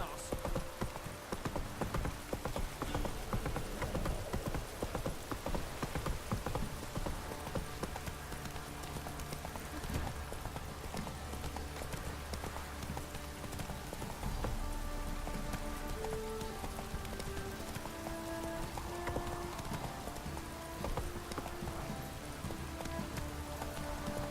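Roach, the horse in The Witcher 3 video game, gallops with a steady rhythmic clip-clop of hooves over the patter of falling rain, continuing throughout while a voice speaks now and then.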